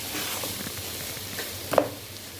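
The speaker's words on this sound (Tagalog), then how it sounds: "Chicken i-fry guys." Chicken frying in a pan for kabsa gives a soft, continuous sizzle with a faint crackle, low and steady, with a small pop near the end.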